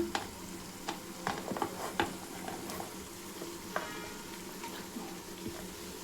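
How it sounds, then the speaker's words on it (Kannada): Carrots, potatoes, knol-khol and capsicum frying in a pan for wedding-style vegetable pulao, a steady close sizzle with clattering stirring strokes and a few sharp utensil knocks throughout. "ಸೊ ಇವಾಗ ತರಕಾರಿನ ವೆಜಿಟೇಬಲ್ ಹಾಕೋಬೇಕು."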